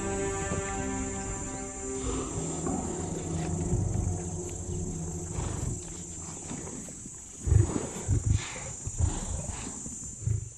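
Lions at a giraffe carcass in the African wild with cubs nearby, giving low, rumbling growls and roars. The sound is moderately close, builds into stronger bursts toward the end, and carries over a steady background of insect hum.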